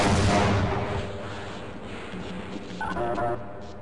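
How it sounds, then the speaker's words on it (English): Gunfire crackles in the video game Half-Life, a burst of shots ringing out at the start before fading into ambient game sounds and sparse tones. "Who is shooting at me?"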